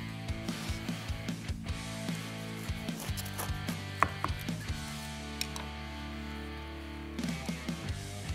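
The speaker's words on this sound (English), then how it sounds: "Let's cut one in half and taste it." A knife saws through a grilled ribeye sandwich with peppers, onions, mushrooms and cheese, a rapid run of quiet rhythmic strokes on a board, pausing midway and then resuming.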